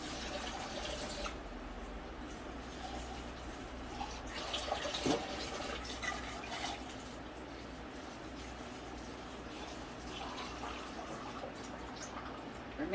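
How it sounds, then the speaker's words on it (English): Filtered water rinsing and partly filling cans at a kitchen sink, a steady splashing flow over low background hum, with a few brief clinks and no talking. "I'm going to rinse out these cans and put just a little water in there"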